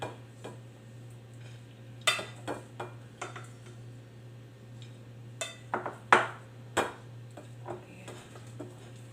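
Rice and food being moved onto a plate with a utensil, giving sharp scattered clinks and scrapes of spoon against dish, close and intermittent over a steady low hum.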